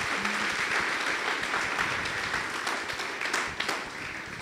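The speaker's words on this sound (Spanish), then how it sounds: "¿Alguien le da un aplauso fuerte a Jesús en esta hora?" A church congregation breaks into loud, sustained applause during a sermon, a dense wash of many hands clapping that holds steady for several seconds and eases slightly toward the end.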